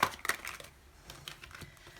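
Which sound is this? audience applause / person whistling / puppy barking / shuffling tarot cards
shuffling tarot cards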